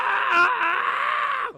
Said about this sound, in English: Department head Han let out a scream.